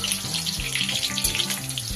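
Chicken kofta balls coated in bread crumbs deep frying in hot oil, a steady close sizzle and crackle with low bubbling thumps running throughout, no voices.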